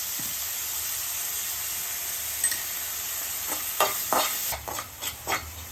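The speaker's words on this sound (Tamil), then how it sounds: "நல்லா பொன்னிறமாக வதக்கணும்" Lightly salted onions sauté to golden in a pan for mushroom gravy rice, a steady close sizzle with a run of spoon scrapes and stirring knocks building toward the end, with no talking.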